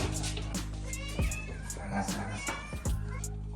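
Several young rescued kittens meowing close by in repeated short, high cries over a steady background hum, with a few louder calls standing out.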